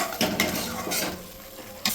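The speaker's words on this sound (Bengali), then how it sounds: "আমি সামান্য পরিমাণ জল দিয়ে দিয়েছি যাতে মশলাটা ভালো করে ভাজা হয়" Spice paste for Bengali potol posto fries in a pan with a little water added, giving a soft sizzle broken by several short scraping stirs of a utensil against the pan.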